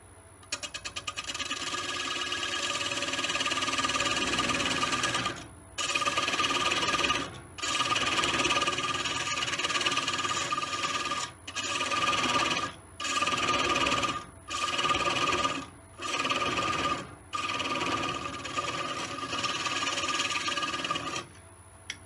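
A wood lathe cuts a mortise into the base of a large wooden bowl, a loud continuous whirring grind near the mic, broken by repeated short pauses as the tool lifts away and bites again.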